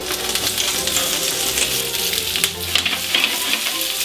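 Shrimp searing in a little oil on a plancha at 200 °C give a loud, close, continuous sizzle with scattered crackles and light metallic taps, and no speech.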